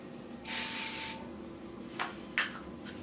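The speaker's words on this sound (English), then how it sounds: "Just pick the pieces up and spray it like that." A single short burst of hairspray from an aerosol can hisses close up for about half a second onto hair, followed by a few faint rustles and light handling sounds.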